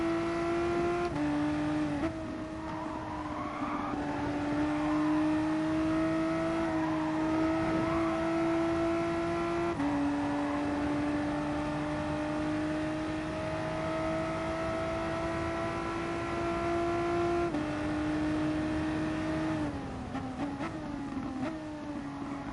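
A VW race car in a driving game laps the Dragon Trail Seaside track with a steady, sustained engine drone. The pitch rises through each gear and drops briefly at the shifts, and the sound stays close and loud throughout.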